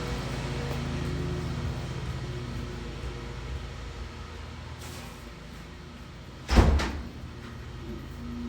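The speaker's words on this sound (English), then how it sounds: "Hold on, I gotta close the door." An indoor door swings shut with a single close thud late in the clip, over a steady low rumble of outdoor lawn maintenance.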